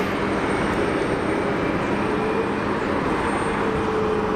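An easyJet airliner on final approach passes low over the airport fence, its broad steady engine roar and rushing air filling the scene at a constant level throughout.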